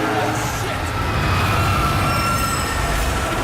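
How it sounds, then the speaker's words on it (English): Trains in the video game DmC: Devil May Cry rumble loudly and continuously with screeching wheel squeal and rail clatter, a dense steady roar filling the whole stretch. "the second thing I think you'll really like is the trains"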